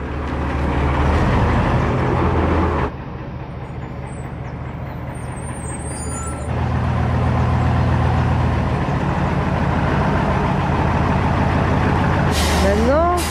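A very large truck maneuvers to turn around near a gate, its heavy diesel engine droning loudly and shifting in pitch, with brief hisses and a rising whine near the end as people talk over it.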